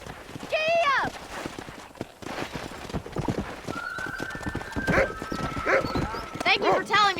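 Horse hooves clip-clop in a quick rhythm in the Red Dead Redemption video game on a ranch where cattle are being herded, with a whinny partway through, while people talk over the hoofbeats.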